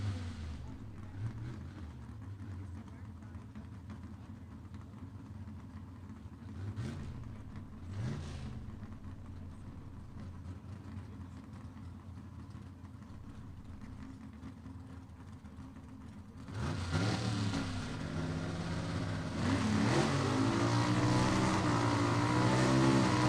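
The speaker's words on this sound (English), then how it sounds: "He's going to go down the track alongside and race the number 13 qualifier, Brad Wimberly" A 1962 Mercury Comet gasser drag races down the track at Gulfport Dragway in a Southeast Gassers Association event. Engine noise drones at a distance for most of the run, then surges much louder and higher near the end as the car passes close.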